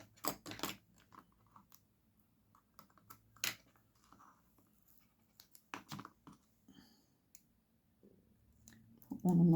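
Scissors snipping small pieces off craft card, a handful of quiet, sharp clicks and snips scattered through near silence, ending with a louder rustle.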